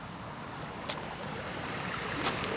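A creek flows steadily in the dark countryside at night, a broad continuous wash of rushing water, moderately loud and even, with a couple of faint high chirps over it.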